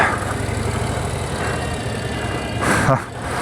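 Adventure motorbike engines idle and rumble nearby with a steady low drone, one engine revving briefly near the end, while a voice talks over them.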